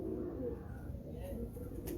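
Soft, brief cooing from a breeder's Teddy pigeons in Karachi rises over a steady low background hum, faint and fairly close.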